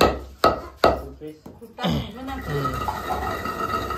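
Lentils (dal) coarsely pounded and ground by hand: two sharp, close thuds open, then a rough, continuous grinding scrape follows, with voices talking over it.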